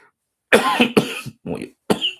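A man clears his throat and coughs in a short burst of four harsh, close barks, separated by brief silences.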